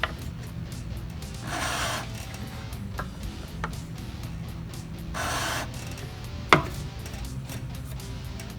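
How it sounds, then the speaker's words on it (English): Hand file rasping down a high spot on a homemade electric guitar neck, two short quiet strokes about three seconds apart, with scattered light taps and clicks between them. "hopefully what that'll do is it'll file down that high spot"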